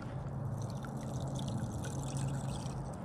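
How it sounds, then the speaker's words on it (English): A rattling fishing lure sputters and splashes across the water surface, a steady, close, busy trickle-like churn with faint clicks, with no talk over it. "you get almost like a chopo tail walk sound where it's like sputtering the water"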